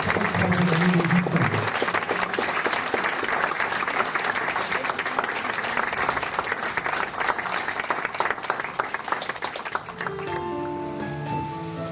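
An audience at a choir concert claps steadily, loud and dense, for about ten seconds before the applause thins and tonal singing voices begin to emerge.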